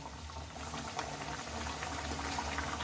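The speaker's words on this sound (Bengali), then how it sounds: "প্রথমে দেখো একটা লুচি আমি দিয়ে নিচ্ছি দেখো বেশ ভালোভাবে তেলটা গরম হয়েছে" A luchi, a puffed Bengali flatbread stuffed with green peas, fries in hot oil, giving a soft, continuous bubbling sizzle with a low steady hum underneath, fairly quiet and unbroken.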